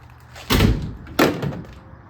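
Two loud metallic clunks about two-thirds of a second apart come from the door of a 1955 Packard Clipper Custom. Each is a close, sharp knock with a short rattle after it, with no talk.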